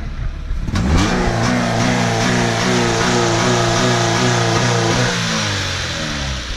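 A car engine fitted with a sock as its air intake revs hard and loud up close, climbing in pitch through repeated rising sweeps before settling back toward a steady drone.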